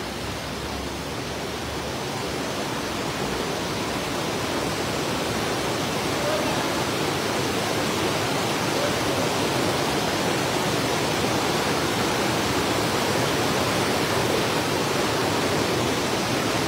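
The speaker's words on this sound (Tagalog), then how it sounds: "Bagong waterfalls. Bagong spot." A river waterfall at a new fishing spot rushes with steady, broadband roaring water that stays loud and continuous throughout, with a faint voice buried in the flow.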